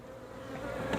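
Bees leaving a hive of Ross Rounds comb honey frames, a dense, continuous close buzzing drone that rises slightly in loudness over a brief moment.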